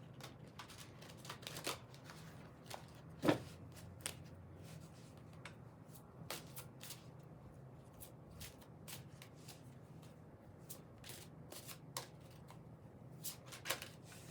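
Cards are shuffled in quiet, scattered bursts of crisp riffling and light taps against a low background hum, with no one speaking.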